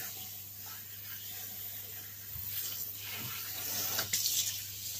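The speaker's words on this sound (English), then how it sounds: "There's literally no water in your face, David." Water runs steadily from a tap during a young boy's hair wash, a continuous close hissing flow with slight splashing changes toward the end.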